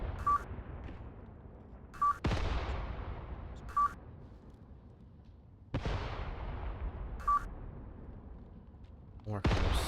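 Mortar fire in the video game Mius Front lands as two heavy booming blasts with long rumbling decays. Short electronic beeps sound repeatedly between them, and a sharper crack closes out the stretch.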